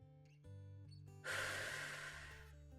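Deep breathing during a Pilates session: a long, audible inhale or exhale swells in as a broad breathy hiss, close and fairly quiet, over a steady low background hum.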